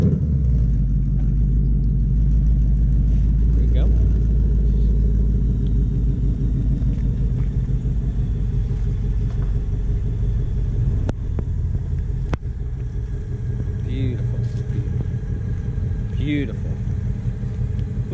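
A 2019 Ford Mustang GT PP1 produces a deep, continuous engine rumble close by, with people talking over it throughout.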